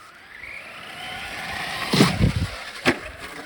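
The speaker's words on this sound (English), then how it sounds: "Now it's Ford's turn with the slash 4x4 with the hobby wing system" A small electric motor whines as a Traxxas Slash 4x4 RC car with a Hobbywing system drives over rough ground, rising to a couple of brief bursts of scrabbling and revving near the end.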